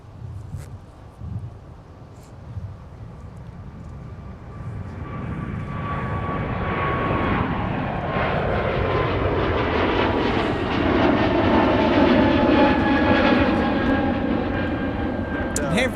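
An airliner at Minneapolis–St. Paul airport swells from faint to a loud, sustained engine roar as it passes nearby, with people talking over the rising noise.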